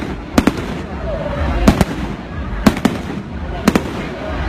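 Fireworks and firecrackers go off in a steady rhythm, sharp pairs of cracks about once a second at moderate distance, over a murmur of outdoor background noise.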